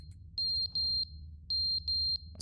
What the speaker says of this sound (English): It's the fire alarm.